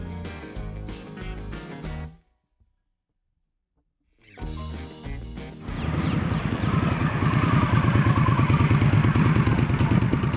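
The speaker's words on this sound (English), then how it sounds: "I geared up and jumped on board an Indian Scout bobber for a cruise across the city" An Indian Scout Bobber motorcycle cruises through Austin, Texas, its engine rumbling in bursts around a brief silent gap, then settling into a sustained, loud riding drone with road and wind noise.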